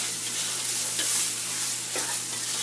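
Minced keema meat seasoned with paprika sizzles steadily in a pan, a loud continuous hiss broken by a couple of scraping stirs, with no talking.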